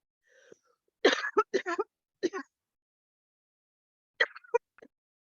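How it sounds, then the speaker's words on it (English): A few short, close coughs and throat clearings from someone recovering from COVID come in two clusters, separated by silence, with no talk in between. "I'm just recovering from COVID, so I might need a cough."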